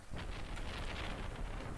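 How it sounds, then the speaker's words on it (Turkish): Rain falls steadily in the farming video game Stardew Valley, a soft, even hiss that continues without pause, faint and alone with no voices. "Bugün yağmur yağıyor."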